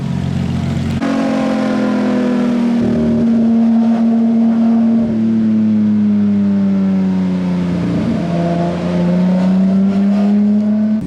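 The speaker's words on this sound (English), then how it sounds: "Nothing like the sound of a bunch of GT3s to wake up to in the morning." Several Porsche 992 GT3 sports car engines running together, a loud, steady, high-pitched flat-six drone with slight rises and dips in pitch for about eleven seconds and no talking.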